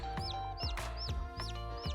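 A hen clucks over her newly hatched chicks, giving a steady run of five close, loud, rhythmic clucks about every half second, with no talking.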